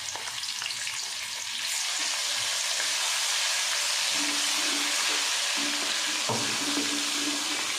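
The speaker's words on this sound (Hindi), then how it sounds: "अदरक लहसुन हमारा अच्छे से फ्राई हो गया" Steady, dense sizzling of ginger garlic paste frying in a hot pan, with a few soft clinks of stirring near the end.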